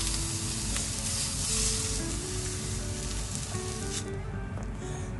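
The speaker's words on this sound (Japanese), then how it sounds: "トウモロコシをただ焼くだけ。" Corn, bacon with potato, and sausages being browned without seasoning in a pan give off a steady, close, dense sizzle that runs unbroken throughout, with no talking.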